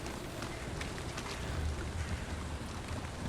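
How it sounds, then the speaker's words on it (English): Steady rain falling in a swamp inside the Valheim-style survival game, a dense even hiss with soft patter throughout and no voices. "he is in the swamp, and as you can see, it's raining"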